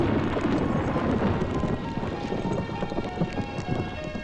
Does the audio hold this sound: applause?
no